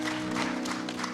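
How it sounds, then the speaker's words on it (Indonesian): A church congregation claps together in a brief, steady burst of applause, with a held organ or keyboard note sounding underneath. "berikan tepuk tangan buat Anda semua"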